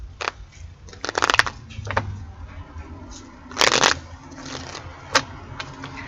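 Tarot cards are shuffled in quick bursts of riffling and flicking, close and fairly quiet, with pauses between bursts and no talking.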